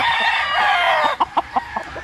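A rooster crows loudly nearby, a long drawn-out call followed by a few short clucks.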